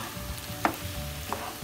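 Onions sautéing in a pan with potatoes, mint and chili flakes, a soft continuous sizzle with two light utensil taps.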